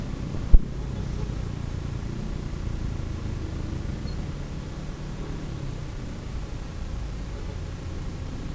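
Steady low rumbling wind buffeting the microphone, with a brief sharp thump near the start.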